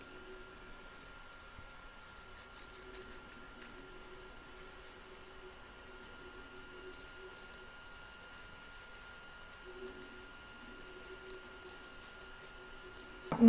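Scissors snip through wash-away embroidery stabilizer along a stitch line in an in-the-hoop lace zip bag. Faint, irregular cutting clicks come in small clusters over a quiet background hum with no talking.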